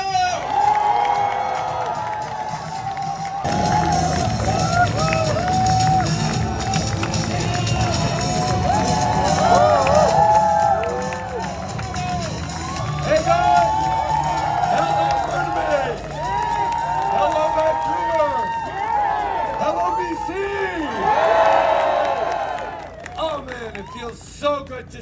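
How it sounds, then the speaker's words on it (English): A large crowd at a Liberal Party rally cheers, whoops and applauds as Justin Trudeau is welcomed. The roar is loud and sustained, swells in waves and fades near the end. "a big round of applause for the Right Honourable Justin Trudeau"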